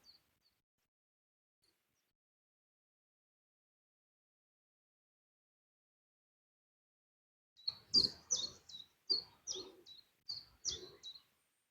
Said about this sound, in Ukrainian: Послухайте, як пташки тут співають.